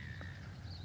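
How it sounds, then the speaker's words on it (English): Birds squawking outdoors in Australia, a short harsh crow-like caw rising over a low rumbling background, heard nearby without any speech. "I'm sure you can hear all the birds squawking around me"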